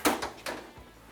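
A toolbox drawer sliding open, giving a quick pair of rolling scrapes followed by a soft thud as it stops, close and fairly quiet.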